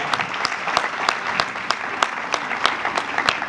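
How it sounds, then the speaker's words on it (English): An audience at a skills academy graduation ceremony applauds steadily, a dense wash of clapping with sharper individual claps standing out, moderately distant and with no speech over it. "Can you give a round of applause for that?"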